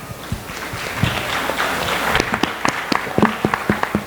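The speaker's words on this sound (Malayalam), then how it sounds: "ഇവർ ഗംഭീരമായൊരു കയ്യടി തന്നെ അർഹിക്കുന്നു" Applause from a modest audience, a blend of many hands that thins out into distinct individual claps in an uneven rhythm as it winds down.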